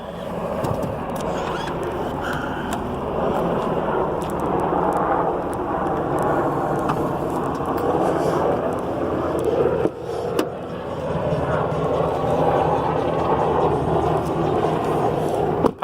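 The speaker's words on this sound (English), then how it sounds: "we got a helicopter over there that's creating some noise for me" A helicopter flies overhead near a 2017 GMC Yukon XL 4x4 salvage vehicle outdoors, giving a steady, broad rumbling drone that fills the whole stretch with a few brief clicks and knocks on top.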